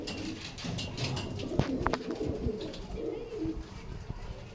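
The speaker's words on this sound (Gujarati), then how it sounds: "આ બધા ઉપર બેઠા એ કબૂતર જોઈ લેજો" Pigeons coo in a low, repeated rhythm from a flock of many birds perched together, with scattered wing flutters and short calls over the steady murmur.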